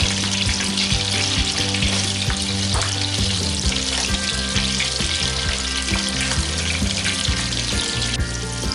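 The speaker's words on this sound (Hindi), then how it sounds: "तो बाकी कबाब मैं डाल के फ्राई कर रही हूँ।" Mutton reshmi kababs sizzle and fry steadily in hot oil, a dense, continuous crackle that stays loud and close throughout, with faint clinks and a low background hum beneath it.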